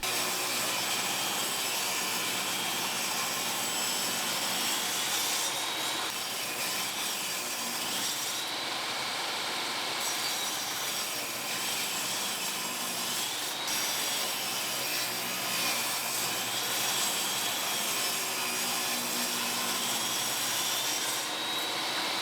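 A saw rips half-inch wood strips in one long, continuous rasping cut, an even, harsh grinding hiss that holds steady for over twenty seconds with only slight shifts in pitch and texture.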